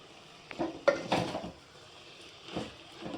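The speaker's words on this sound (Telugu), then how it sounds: "ఇప్పుడు ఒకసారి చూద్దామండి చూసి కలుపుకుందాం ఒకసారి" A spoon stirs a meal maker and onion curry in a pan, giving a few close knocks and scrapes against the metal in two short bursts with a quiet pause between.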